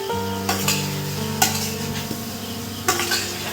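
Potatoes being stirred in a pan with crushed ginger, chilli and spices for Kashmiri aloo dum, a soft continuous sizzle broken by a few sharp scrapes and clinks of the spoon against the pan, close and clear.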